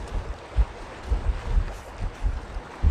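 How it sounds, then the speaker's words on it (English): Gusts of wind thump and rumble against a phone microphone on a gimbal outdoors in Minnesota in uneven bursts, a low buffeting roar with no voices. "That's the wind pounding this phone"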